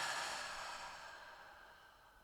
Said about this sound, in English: Let's take a deep breath in through the nose and we'll exhale through the mouth